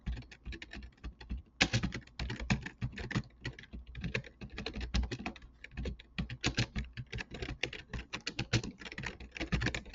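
Text being typed on a computer keyboard, a rapid, uneven stream of close, crisp key clicks with brief pauses between bursts and no talking.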